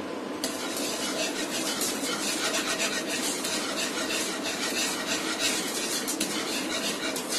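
A whisk stirs white sauce for pasta in a pot without pause, giving a steady close scraping and rattling of metal against the pan that carries on for the whole stretch with no talking.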